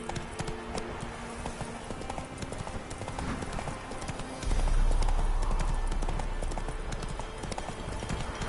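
Roach the horse trots through a video game world, hooves clip-clopping in a steady, even rhythm, close and loud, under a dense bed of game music and ambience, with a low rumble swelling in partway through.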